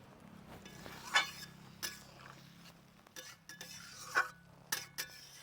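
Eggplant pieces going into a cooking pan of fish curry, heard as sparse, fairly quiet clinks and scrapes of a utensil against the pan over a low background hum.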